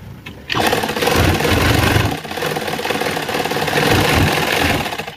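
An electric sewing machine stitches men's elastic underwear fabric. Its loud, close motor starts suddenly and runs continuously, with a short dip partway through.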